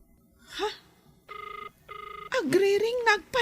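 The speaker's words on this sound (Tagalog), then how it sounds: "Agriring nagpaiso." Mobile phone ringing with two short electronic trill bursts, close and clear, after a brief vocal sound and followed by a person starting to talk.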